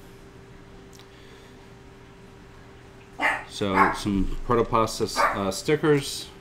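A dog barks and yips several times in quick irregular bursts, close and loud, mixed with a person talking during an unboxing indoors.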